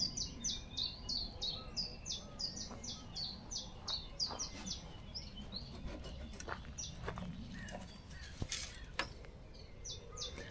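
Birds chirp in quick repeated bursts at a moderate distance at a campsite in Burgundy, with scattered tapping and light rustling underneath; no one speaks.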